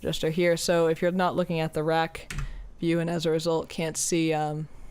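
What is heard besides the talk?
No everyday noises stand out.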